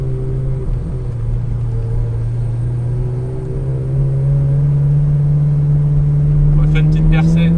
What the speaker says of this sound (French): on se retrouve derrière la Testarossa qui fait un bruit de dingue